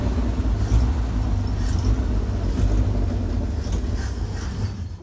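A Land Rover Series 2a engine runs with the choke slightly out, a loud, steady low rumble close by that fades and dies away as it stalls at the end.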